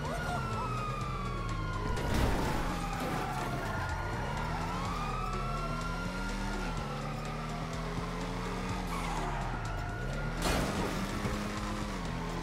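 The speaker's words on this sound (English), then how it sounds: "I can hear them sirens from here." Wailing police sirens in Grand Theft Auto V rise and fall continuously over a low engine hum, with a couple of brief bursts of noise, fairly loud and steady.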